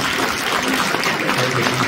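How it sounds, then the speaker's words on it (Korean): A concert audience claps steadily for a model curtain call at a classical music concert, dense and continuous applause that fills the room. "다시 뜨거운 박수로 부탁드리겠습니다"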